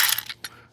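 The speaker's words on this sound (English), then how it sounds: "grab our 10mm socket and wrench" Ratchet wrench with a 10mm socket turning on a 1996 Sea-Doo SPX personal watercraft, giving a few short, close mechanical clicks over less than a second.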